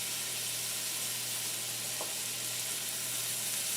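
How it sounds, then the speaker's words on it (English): Mushrooms fry in butter in a pan for a frittata, giving off a soft, steady sizzle that stays even and fairly faint throughout, with no voices. "get our mushrooms cooking just a little bit"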